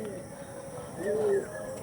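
A single soft, low coo from an old-generation one-patti dom pigeon with kalpora kaldom markings, rising briefly over faint background noise.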